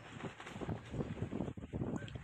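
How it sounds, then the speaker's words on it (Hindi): Strong wind blowing outdoors at an open-air dunba karahi eatery in Lahore, a steady, loud rushing buffet that fills the whole stretch with gusty surges. "मौसम के ये हालात आप देख लें कि इस कदर तेज़ हवा है"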